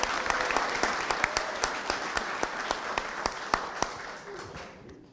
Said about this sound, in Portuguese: Salva de palmas para eles também.